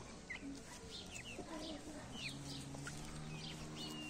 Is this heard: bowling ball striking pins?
no